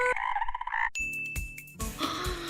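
A toy frog gives a short run of rhythmic croaking pulses near a hedgehog pet, then a bright ringing tone and jingly clatter follow close by.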